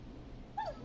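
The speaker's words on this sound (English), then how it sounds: "It's a puppy." A puppy whimpers in the video game Killer Frequency, one short high whine rising out of a low background hum near the end.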